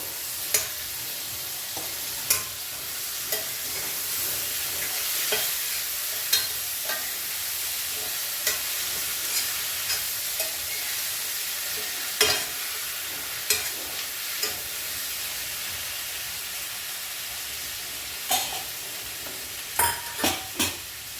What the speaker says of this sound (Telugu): ఇప్పుడు దోసకాయ ముక్కలు వేసేస్తున్నాం